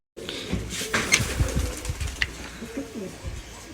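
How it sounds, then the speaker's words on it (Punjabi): Pigeons in a netted coop coo repeatedly from close by, soft throaty calls rising and falling over a busy background with some rustling and faint movement. "ਆਪਾਂ ਤੁਹਾਡਾ ਫੇਵਰਿਟ ਕਬੂਤਰ ਵੀ ਛੱਡਤਾ ਜੀ"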